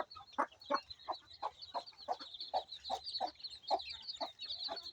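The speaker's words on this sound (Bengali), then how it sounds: "মুরগির কত সুন্দর ছোট্ট ছোট্ট বাচ্চা ফুটেছে।" Hen with newly hatched chicks, a steady run of soft clucks roughly every third of a second, with high continuous peeping from the chicks layered above, close and moderately quiet, no voices.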